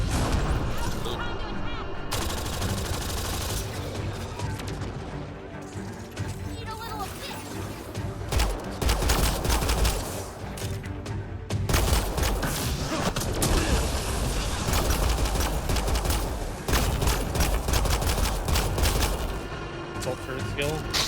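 Turrets fire projectiles in a Mass Effect Andromeda space battle: dense, continuous booming and crackling bursts with heavy low rumble, loud throughout, briefly dropping out twice, while players talk over it.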